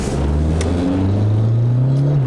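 A loud turbocharged car engine revs up steadily, its droning pitch rising as it accelerates under boost, heard from inside the vehicle.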